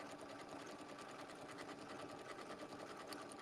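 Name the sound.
sewing machine sewing decorative stitches on appliqué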